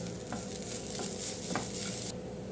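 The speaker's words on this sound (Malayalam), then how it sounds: "നമുക്കിനി ഇതിലേക്ക് തേങ്ങ ഇട്ട് കൊടുക്കാം" Grated coconut is stirred into a frying pan with cashews and grapes, giving a soft, continuous sizzle broken by a few light scraping strokes.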